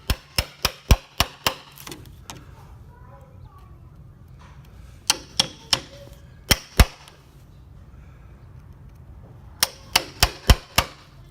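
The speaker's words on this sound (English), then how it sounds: "we're going to use a chisel to clean out the whole pocket" A chisel struck repeatedly to clean out a hinge pocket in a Marvin Integrity window frame, with sharp, close taps in quick bursts of four to five, separated by quieter pauses with faint background sound.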